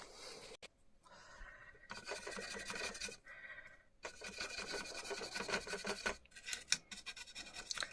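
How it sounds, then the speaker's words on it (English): A fiberglass scrubber pen rasps against a circuit board from a Bush Freesat HD BFSAT03HD box, in close, bursty strokes with brief pauses between scrubbing runs. "Just using my fiberglass scrubber pen."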